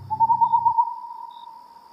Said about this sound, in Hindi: एक काला उल्लू आकर गाब के पेड़ पर बैठा और अपनी डरावनी आवाज में बोल उठा